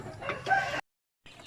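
Chickens on a small hatchery farm with a rooster crowing close by, one short raspy crow cut off abruptly, followed by a moment of silence and faint clucking.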